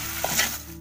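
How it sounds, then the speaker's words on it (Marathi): Onion and coconut ground masala sautéed in a pan over a wood-fired chulha, giving a brief, close, steady sizzle and stir with no voices. "हे आपलं कांदा खोबऱ्याचं वाटप. आता हे जरा चांगलं 1 मिनटं असं परतून घेते चांगलं."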